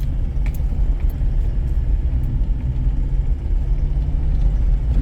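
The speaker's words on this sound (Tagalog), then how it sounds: "sa sobrang tarik nito, kailangan mo biritin yung makina" Ford Everest engine straining on a very steep climb, its steady, loud low rumble droning continuously with a faint rattling layer on top and no break in the sound.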